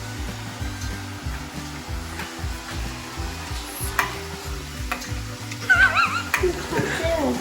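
Chopped tomatoes sizzling in a pan for a sausage chilli give a steady frying hiss, with a low hum and occasional clinks and stirring noises close by.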